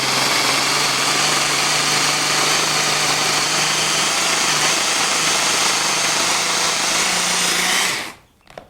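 High-powered blender blending raw food for collard wraps, a loud, steady whirring roar held for about eight seconds before it cuts off abruptly into quiet.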